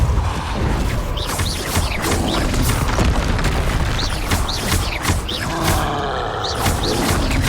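Confringo and Depulso spell blasts in the Hogwarts Legacy video game, a loud run of booming impacts and crackling bursts with whooshing magical effects, repeated rapidly amid continuous battle noise.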